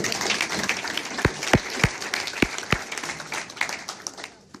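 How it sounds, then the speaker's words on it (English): An audience applauds with dense, sustained clapping, with a few sharp, louder claps standing out nearby as the applause gradually fades. "Give her a round of applause"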